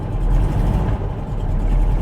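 A Porsche 912 engine idling very low and on the verge of stalling after distributor and vacuum advance trouble, a loud, steady low rumble close by with a slightly uneven pulse.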